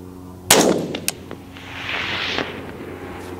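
A 6.5 Grendel rifle fires a single sharp, loud shot outdoors on a calm day with a hillside target, followed by a short echoing tail and faint distant reverberation.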